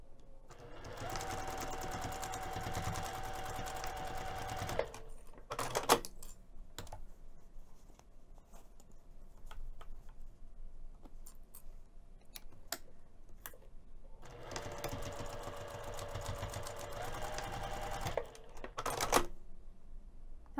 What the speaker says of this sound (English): I'm going to take this over to the sewing machine and sew this straight edge over here